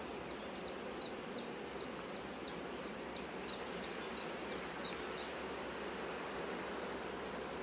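A dense, steady buzzing of many honey bees at an opened hive during queen release from an isolator, with a run of short, high chirps repeating through the first five seconds.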